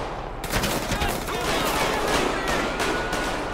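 Rapid bursts of gunfire ring out during a police shootout in GTA 5, a dense, loud fusillade of overlapping shots that carries on continuously from start to finish.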